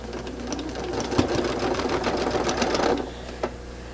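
A sewing machine runs steadily for about three seconds, stitching a quilt block with a short stitch length, its needle chattering in a rapid even rhythm up close, then it stops with a brief final clunk.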